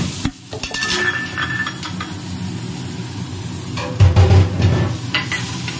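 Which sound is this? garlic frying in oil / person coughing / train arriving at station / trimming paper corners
garlic frying in oil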